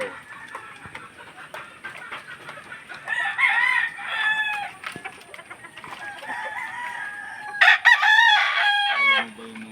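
Several gamecocks crow across a fighting-rooster farm, long rising calls overlapping from near and farther pens amid scattered clucking, with one loud crow close by near the end.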